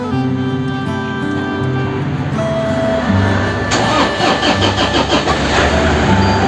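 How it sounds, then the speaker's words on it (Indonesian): A donor car's engine, used to jump-start a car with a weak battery, cranks briefly and fires up close by, then settles into a steady idle with no one talking. "tujuan kita untuk menyalakan mobil si pendonor ini adalah agar aki yang di mobil yang soak itu akan dicas dulu"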